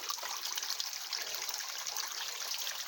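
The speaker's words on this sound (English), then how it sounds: "I bet this water is pretty good. Flowing and all." Water flowing steadily at the back of an old abandoned tunnel, a continuous bright trickling and rushing sound, close and even, with no voices.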